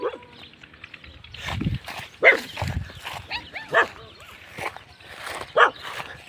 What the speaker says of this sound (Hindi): वे कितने भौंक रहे हैं।